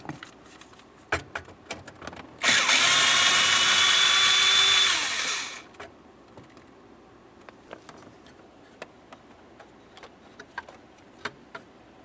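A power tool, likely a drill driver, spins for about three seconds while a 5.5mm bolt is backed out of the steering column of a 2001-2005 Ford Explorer Sport Trac, loud and close, followed by small metallic clicks and handling taps.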